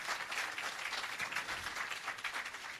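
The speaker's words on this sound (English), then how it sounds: "you can give another round of applause for that" Audience applause for Jamaica's Prime Minister Andrew Holness at an irrigation system commissioning ceremony, a steady, moderately distant wash of clapping filling the whole moment without voices.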